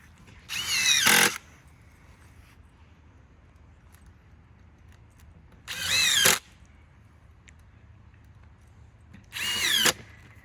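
A power drill drives 1 5/8 deck screws into wood for a compost bin frame, three separate short loud whirring bursts separated by quiet pauses, close up.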